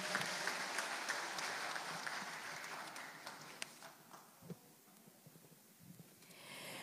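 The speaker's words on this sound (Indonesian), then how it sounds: "Kalau boleh kita berikan tepuk tangan untuk semua yang hadir pada pagi ini." Audience applause at a graduation ceremony for applied-bachelor and associate-degree graduates at a state agricultural polytechnic in Kupang, a dense clapping wash that thins and fades over several seconds, with a few louder isolated claps near the end.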